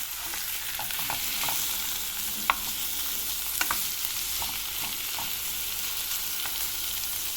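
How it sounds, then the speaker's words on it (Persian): Meat sautéing in a pot for a plum and spinach stew, a steady close sizzle and fry with a few sharp clicks and stirring scrapes scattered through, no talk. "گوشتا رو هم تفت میدیم رنگ گوشتا عوض بشه."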